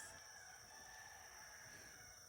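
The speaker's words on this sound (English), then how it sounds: "The roosters are confirming it." Roosters crowing outdoors, faint and distant, a sustained steady call heard alone over a quiet background.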